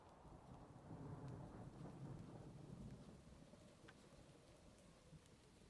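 Thunder in a modded video game rolls as a deep, sustained rumble over steady rain, swelling early and then easing off into softer rainfall.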